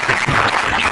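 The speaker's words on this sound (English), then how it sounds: "Please don't clap." Brief burst of audience clapping in a council development control meeting, a short dense patter of hands that stays fairly even throughout.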